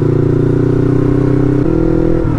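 A naked motorcycle is being ridden with its engine running loud and close as a steady, throbbing drone. The pitch steps down partway through as if gears shift, and the sound stays continuous with no talking.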